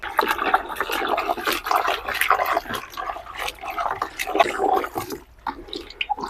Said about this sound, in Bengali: এবার পরিষ্কার পানি দিয়ে তিন থেকে চারবার ভালো করে ধুয়ে নিই